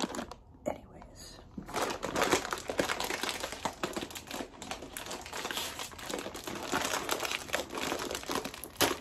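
ASMR crinkling: close, dense rustling and crumpling of a crinkly material continues throughout, with faint whispering or speech mixed in.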